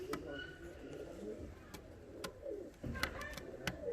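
Fancy costume pigeons coo in low, soft, wavering calls, with sharp clicks and taps from the loft scattered over a constant background hum.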